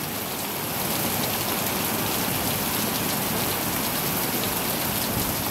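Heavy rainstorm lashing a rural farm with papaya trees and rice fields, a dense, loud, unbroken hiss of downpour that continues without voices.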